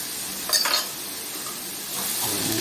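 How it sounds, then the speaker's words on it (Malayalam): Sliced onions sauté in a pan for a mackerel dish, with a low steady sizzle and a brief burst of scraping and clinks as they are turned. "സവാള പെട്ടെന്നൊന്ന് വഴണ്ട് കിട്ടാൻ വേണ്ടിയിട്ടാണ്"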